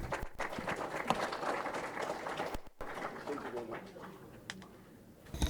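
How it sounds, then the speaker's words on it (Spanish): Applause from an audience after a medical conference talk, a fairly dense clapping that fades over a few seconds, with voices audible over it. "Un aplauso, por favor."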